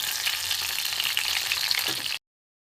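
Steady, close sizzling of bata fish cutlets frying in a hot pan, loud and continuous before cutting off abruptly.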